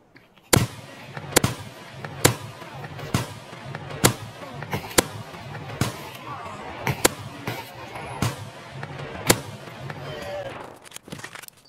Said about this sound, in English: I want you to count shots, the ones that you think are good, and in general all the shots I take now